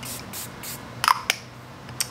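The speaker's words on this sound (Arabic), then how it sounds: "طيب ثاني خطوة بعد ما سوينا الخطوة هذه بس بحط سيتنج سبراي عشان يثبت شوية" Setting spray misted onto a face during makeup: a few short, airy hissing spritzes in quick succession over quiet room tone, with no talking.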